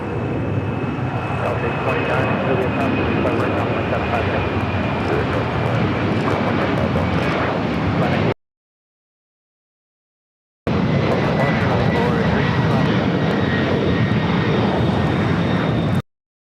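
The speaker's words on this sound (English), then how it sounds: "Cargo 325 taking off to Quito on a 767-300ER in the Avion Solidario livery." A Boeing 767-300ER cargo jet in Avion Solidario livery takes off at LAX, its steady, loud engine roar filling the scene, broken by a brief gap of silence partway through.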